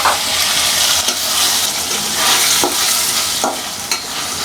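Cubed tomatoes sauté with a spice paste in a pan. The sizzle is loud, close and continuous, and a few sharp stirring scrapes cut through it.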